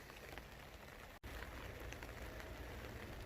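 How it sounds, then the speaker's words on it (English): Steady rain patters on a greenhouse tunnel, a dense, even hiss of drops on the covering that is broken once by a brief dip and carries no voices. "The rain's starting to pick up a little bit here."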